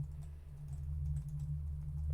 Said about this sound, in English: I just realized people can hear me smashing my keyboard right now.